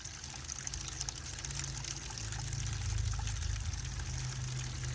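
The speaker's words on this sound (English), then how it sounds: "Go ahead and run some of this water off, so hopefully we'll get that fine gold that's floating." Water run off gold paydirt in a prospecting setup pours and trickles steadily for several seconds, a continuous low watery rush that swells slightly toward the middle, with no one speaking.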